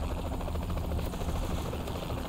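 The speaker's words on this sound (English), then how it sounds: "There's the helicopter." A helicopter in the video game Saints Row 3 Remastered, a dense continuous rotor chop and engine roar, loud and steady throughout with no talking over it.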